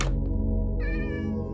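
A cat meows clearly and close by, one drawn-out call with a rising tone, heard over steady relaxing background music.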